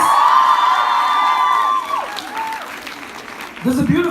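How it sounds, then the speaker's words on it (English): A college auditorium audience at a keynote address breaks into loud, sustained clapping with whistles and cheers. The applause fades into a voice speaking near the end. "Can we have a huge round of applause for him, please?"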